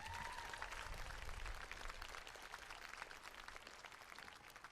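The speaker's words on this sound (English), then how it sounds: "Let's give them a round of applause." Audience applauding graduates at a school graduation ceremony: steady, even crowd clapping, faint and distant, sustained throughout with no talk over it.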